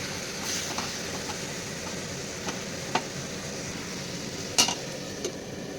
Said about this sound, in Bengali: এবারে এটাকে কষে নেব চাপা দিয়ে দেবো